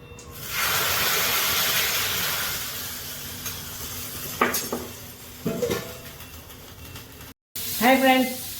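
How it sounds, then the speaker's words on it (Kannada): Oil tempering sizzles loudly as onion and curry leaves go into the hot pan for a Mangalorean-style dish, a steady hiss followed by a few stirring clatters and short bursts of speech. "ಒಗ್ಗರಣೆ ಪಾಡೊಂದುಲ್ಲೇನು."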